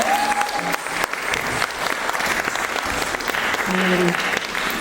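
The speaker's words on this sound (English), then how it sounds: "Can we get another round of applause for Kiram community?" Sustained applause from an audience fills the whole clip, with a few voices briefly audible over the clapping.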